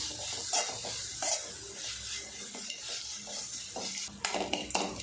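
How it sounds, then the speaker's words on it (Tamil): Radish being sautéed in a pan over a low flame for a rice dish, with a steady soft sizzle and several scraping stirs of a spoon against the pan, clustering near the end; no voices. "லோ ஃப்ளேம்லேயே அஞ்சு நிமிஷம் நல்லா வதக்கி விட்டுக்குவோம்"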